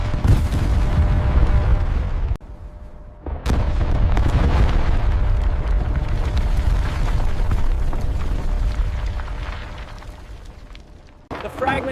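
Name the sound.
detonation of explosive charges blasting a mountain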